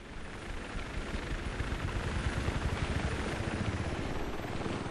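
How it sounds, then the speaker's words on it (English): Helicopter rotor and engine noise, a steady dense broadband drone holding at constant loudness throughout, close and alone with no talk. "this is my helicopter. I can do some amazing tricks with it."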